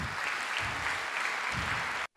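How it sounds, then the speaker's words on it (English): Applause from the audience at a forum in France, steady even clapping across the room at moderate level, cutting off abruptly at the end. "I think he deserves a round of applause."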